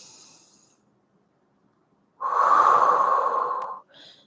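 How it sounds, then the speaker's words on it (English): A slow breath drawn in through the nose and then let out during a guided pelvic-floor exercise; a faint inhale is followed by a loud, steady exhale of about a second and a half and a brief trailing puff, with no talking. "Inhale through the nose. And exhale."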